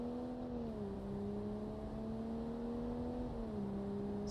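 A car engine running quietly at a low, steady hum, with two small dips in pitch as it shifts or eases off, near and smooth, with no talking.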